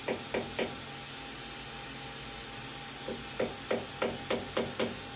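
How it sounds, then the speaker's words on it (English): A metal insert being tapped into a pocket of a small-parts family mold: three quick light taps, a pause of a couple of seconds, then a run of seven evenly spaced taps, close and crisp over a faint background hiss. "So now that it's in there, let me see if I can tap it in a little bit."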